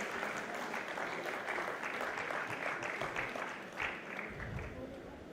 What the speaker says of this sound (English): Can we have a huge round of applause for our speaker